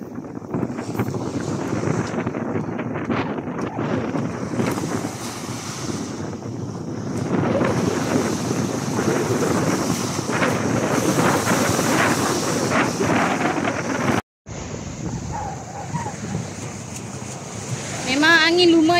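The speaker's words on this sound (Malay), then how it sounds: "Memang angin kuat sangat." Strong wind buffets the microphone on open sea from a fishing boat, a loud roaring rush with waves and the boat engine underneath, and voices talking over it.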